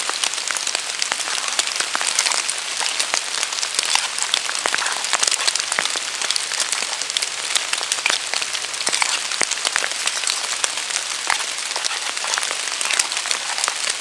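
Steady rain in a forest patters densely and evenly on leaves and ground, with scattered sharper drops, continuous and enveloping throughout.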